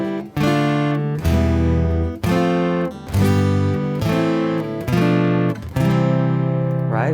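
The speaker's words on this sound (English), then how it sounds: "Let's play the scale as chords." An acoustic guitar plays a scale as harmonized chords, seven full strummed chords in a slow even sequence, each ringing briefly before the next, loud and close with no talking.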